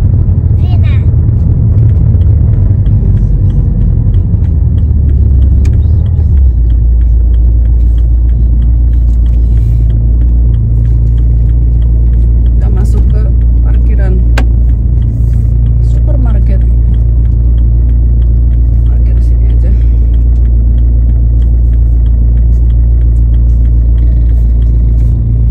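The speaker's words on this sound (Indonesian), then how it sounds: "aku akan pindahin mobil ke parkiran supermarket" A car is driven to a supermarket parking lot, its engine a loud, steady low rumble heard from inside, with brief faint clicks and bumps over the drone and a voice talking at times.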